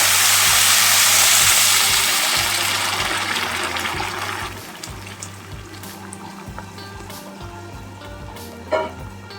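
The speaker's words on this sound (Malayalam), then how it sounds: "തിളപ്പിച്ച വെള്ളം ചേർക്കാം" Boiled water poured into a pot of fried biryani rice for jackfruit seed biryani, a loud rushing, sizzling pour that tapers off over several seconds, with faint regular tapping and a brief clatter near the end.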